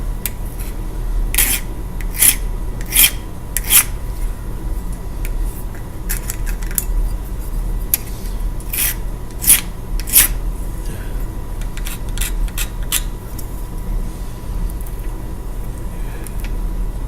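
Chainsaw chain teeth are sharpened with a hand file, giving short, sharp rasping strokes in irregular clusters over a steady low hum, close up and with no talking.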